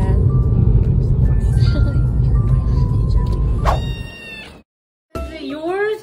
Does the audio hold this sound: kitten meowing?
yes